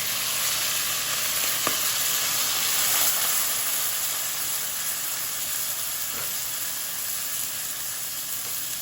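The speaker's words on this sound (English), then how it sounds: "First one here, adding some liquid to that." Liquid poured into a pan of sizzling pork stew, giving a steady, loud frying hiss with a few faint clinks, heard alone without talk.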